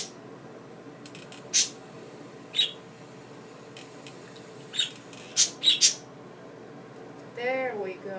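Small pet birds at a shallow water bath give sharp squawks and chirps, several brief calls spaced irregularly and then a quick cluster of them, over a quiet room background, with a voice starting near the end.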